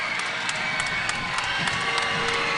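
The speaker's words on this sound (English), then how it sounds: "The crowd on its feet." A volleyball crowd at Stanford roars at match point, a steady loud wall of cheering and shouting with no pauses.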